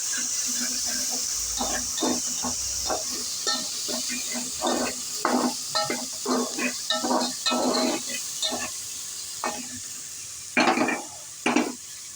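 A spoon stirs a tomato, onion and ginger-garlic paste mixture in a pan, giving a run of soft scraping, sizzling strokes in irregular rhythm over a steady hiss, close and moderately loud.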